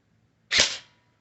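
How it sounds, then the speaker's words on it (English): A single sharp crack from a cheap spring-powered airsoft gun firing at the side of another gun, close and loud, with a quick decaying tail and no talk. "Now I'm gonna just shoot the side of the gun and see what it does."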